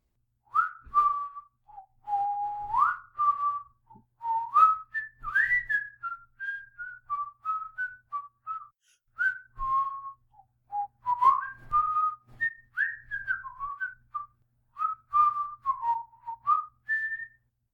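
A man whistles an air from the opera Robert le Diable, then a popular song, blending the two in a long, clear, melodic solo line of short phrases with brief pauses, alone and close.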